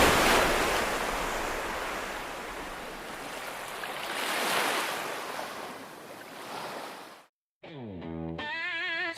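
Ocean waves surge and crash steadily on Surumanis beach in Kebumen, Central Java, a loud continuous roar of surf with swelling peaks, cutting off abruptly near the end before a brief tonal sound.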